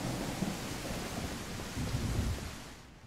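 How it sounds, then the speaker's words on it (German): Heavy rain and rolling thunder in the survival game Mist Survival, a dense, loud roar of downpour with deep rumbles swelling through it and easing off at the end. "Boah, ist das im Regnen, Alter."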